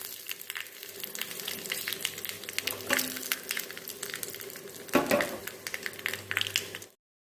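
Mustard seeds, dry chillies and curry leaves sizzling in hot oil for a tempering, a steady crackling fry with sharp pops and spits, close and loud, stirring sounds mixed in, fading out at the end.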